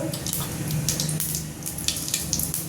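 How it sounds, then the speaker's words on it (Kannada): Mustard seeds and cumin crackle in hot oil, a steady close sizzle with scattered sharp pops throughout, and no talk over it. "ಜೀರಿಗೆ, ಚಟಪಟನ ಸ್ವಲ್ಪ ಕೇಳ್ತಾ ಇರ್ಬೋದು"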